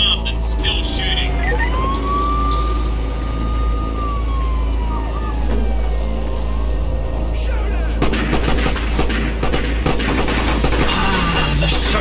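Rapid bursts of gunfire in a first-person shooter game, dense crackling shots layered over sirens and a drawn-out wailing tone, with the fire growing heavier toward the end.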